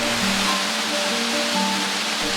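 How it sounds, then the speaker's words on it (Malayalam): Mankulam waterfall near Munnar cascades down in many tiers, producing a steady, close wash of rushing water with faint tonal hums underneath. "ഇതാട്ടോ 33 വെള്ളച്ചാട്ടം."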